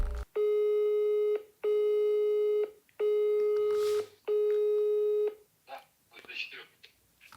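A telephone ringback tone while a call is being placed, four long steady tones separated by short gaps, followed by a faint voice answering the line.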